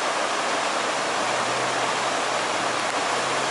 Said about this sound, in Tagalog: Nandito po kami sa may tabing ilog. Medyo malakas po ang agos